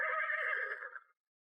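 A horse in a Hindi cartoon story gives one clear, fairly loud neigh lasting about a second, which trails off into silence.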